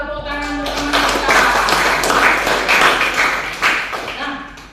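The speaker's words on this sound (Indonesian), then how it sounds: "Hebat, tepuk tangan untuk teman kita." A classroom gives a student a round of applause. A teacher's voice comes first, then a few seconds of scattered, moderately loud clapping that swells and then thins out.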